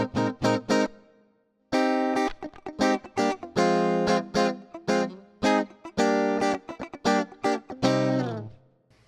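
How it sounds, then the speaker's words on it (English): Electric guitar through a Fractal multiband compressor preset on an FM3/FM9/Axe-FX III, a flat, even tone: short muted chord stabs and a longer strummed passage in a choppy funk rhythm, close and steady in level with no talking. "that setting by itself sounds like this"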